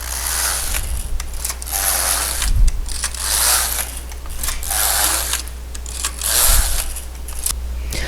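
A Passap knitting machine knitting rows for a double hem, its carriage sweeping back and forth in steady repeated passes with mechanical clatter and ratcheting, a low hum constant beneath.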